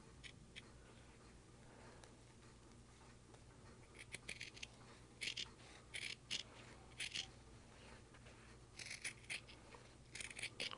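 Scissors snipping through quilting fabric for a pumpkin-and-bat quilt block, heard as a few short, quiet clusters of crisp cuts in the second half over a low, steady room hum.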